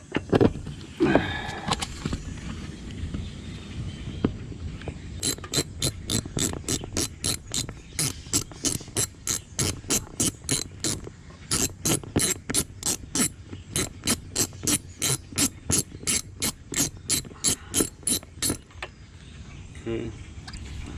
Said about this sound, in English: So I'm going to take those two bolts off.